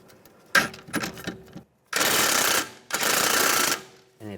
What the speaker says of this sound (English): Using a 16mm socket, you want to take this nut off.